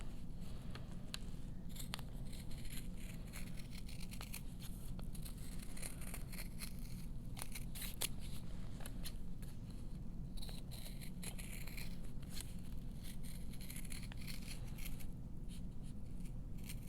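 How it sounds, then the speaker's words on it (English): Quiet, repeated snipping of sewing scissors through fabric, irregular crisp cuts close by with soft rustling between them. "we'll just use sewing scissors to cut this out."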